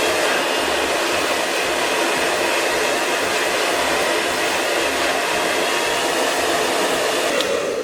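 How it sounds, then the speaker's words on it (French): A hair dryer blows a constant loud airy roar while drying hair, steady and close for the whole stretch with no talking. "ça me permet comme ça de sécher mes cheveux sans, j'ai envie de dire, trop les abîmer"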